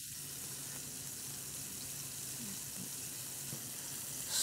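A turkey burger sizzles steadily in a pan as it finishes cooking on its second side, a continuous quiet frying hiss heard close up with no talking.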